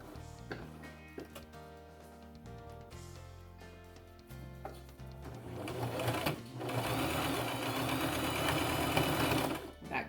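A sewing machine runs steadily, stitching the seam of a fabric scrunchie, with a quieter, intermittent start giving way to a loud continuous whir near the machine.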